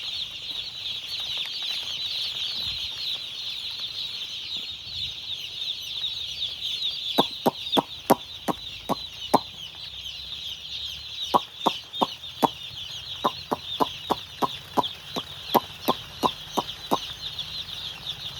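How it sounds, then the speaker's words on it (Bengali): Broiler chicks in a village poultry shed keep up a dense, continuous high-pitched cheeping chorus, later joined by bursts of sharp rapid tapping or pecking clicks. "এটা ব্রয়লার চিক্স, মুরগি,"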